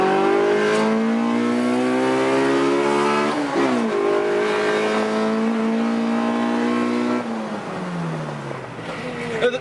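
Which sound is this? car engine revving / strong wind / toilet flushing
car engine revving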